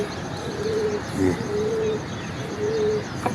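A Chinese pigeon cooing up close, a few soft, low, drawn-out coos repeated at intervals over faint background noise and a brief spoken word.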